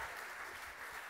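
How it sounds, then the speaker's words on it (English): Audience applause for Hailey at an award presentation, a steady soft patter of many hands heard at a distance. "Give Hailey a round of applause"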